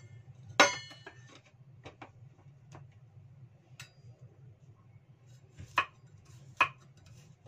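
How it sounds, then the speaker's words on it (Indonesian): A knife slices shallots on a cutting board, giving sparse, irregular taps: a few sharp louder strikes among softer clicks, close up and quiet otherwise, with no voices. "Ini mau dirajang ya, berambang bawangnya guys"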